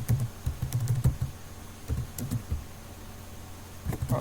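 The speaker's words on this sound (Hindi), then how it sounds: "अब मैं क्या लिख रहा हूँ, मोहम्मद" Someone types a page name on a computer keyboard, with close, light key clicks in quick irregular bursts and short pauses between them.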